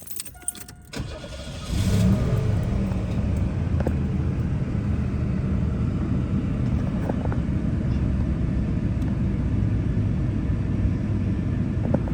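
A 1987 Buick Electra Park Avenue engine cranks briefly and then catches, settling into a steady, loud, close rumbling idle that holds for the rest of the time with no speech over it.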